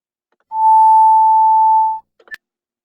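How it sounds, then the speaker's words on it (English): A single steady electronic pure tone, presented as the note middle C, sounds loud and clean for about one and a half seconds against silence, then cuts off and is followed by a few faint clicks. "a higher frequency, such as middle C, which is produced by vibrations occurring at about 523 hertz"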